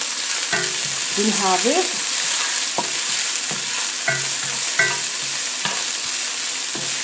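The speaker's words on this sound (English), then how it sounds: "we're going to add in our onions" Onions fry in a pan with a steady, close sizzle and repeated clicks of a utensil stirring against the pan, while a voice speaks briefly over the cooking.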